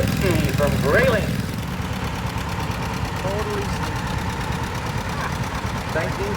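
A 1939 John Deere Model L antique tractor runs in a parade, its engine chugging with a steady low rumble throughout, with faint voices and crowd sounds in the background.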